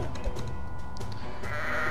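Sheep bleating in the tower-defense game Kingdom Rush, a short bleat or two sitting low and close inside a steady bed of game ambience and music.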